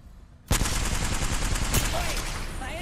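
Rapid gunfire from Rampart in Apex Legends erupts abruptly after a quiet moment, a loud sustained burst of automatic shots close by, with brief game voices.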